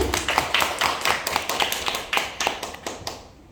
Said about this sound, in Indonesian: Boleh kita berikan tepuk tangan dulu Bapak Ibu.